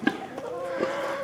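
Hens on a homestead farm give a few short clucks and a drawn-out, murmuring note at moderate distance, a brief bit of soft poultry chatter with no talking.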